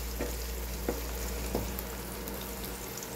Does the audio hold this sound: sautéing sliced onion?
yes